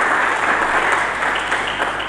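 Church congregation applauding together in a steady, dense wash of clapping that fills the whole moment, loud and close, with no talking over it.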